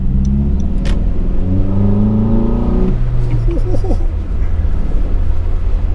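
Nissan 240SX with an SR20 four-cylinder and a new intake revving up strongly, pitch climbing for about three seconds then falling back to a rumbling idle, loud and close with steady background noise.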